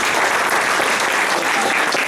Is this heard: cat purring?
no